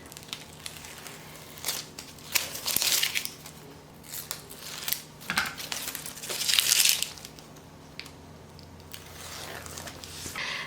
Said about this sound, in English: Now I'm going to go ahead and just peel off the strips of heat and bond.